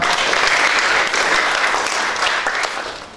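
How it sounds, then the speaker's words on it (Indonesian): A church congregation at a Sunday worship service in Majalengka claps together in a steady, dense wash of applause that fills the room, close and loud, gradually easing off toward the end. "Tepuk tangan buat Tuhan."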